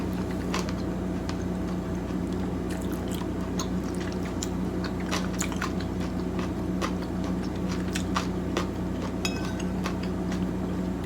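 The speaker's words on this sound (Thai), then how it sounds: "เคี้ยวแบบกรุบๆนีผักดองอร่อยอะ" Someone chews crunchy pickled vegetables with pork porridge, sending out close, crisp crunches and wet bites at an irregular pace over a steady low background hum.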